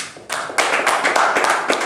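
An audience bursts into a short round of applause at a youth event, a close, loud patter of clapping hands that starts abruptly and continues steadily with no talk.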